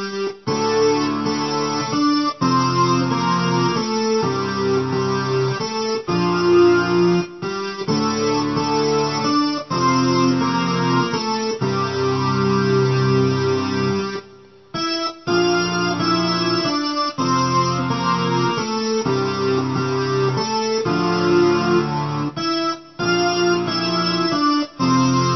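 Piano playing a pop song, right-hand melody over left-hand chords, a steady loud performance with a brief pause midway and no talking.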